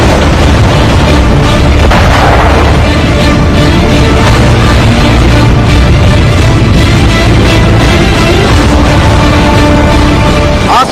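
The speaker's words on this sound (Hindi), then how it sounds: "जमीन पर फटते बम और टैंकों के गोले" Bombs and tank shells exploding across open ground during an Indian military weapons display, a loud, continuous barrage of booming blasts and rumbling detonations that fills the whole stretch without pause.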